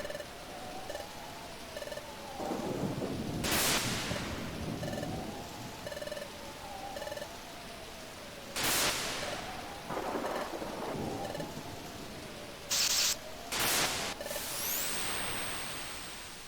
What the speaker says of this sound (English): chapter 1, Storm at Sea